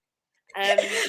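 A single short sneeze from a person, close and fairly loud, with a quick voiced burst lasting about half a second in an otherwise quiet indoor conversation.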